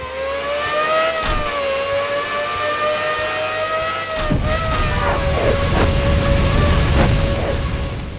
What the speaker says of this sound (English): the roar of the engines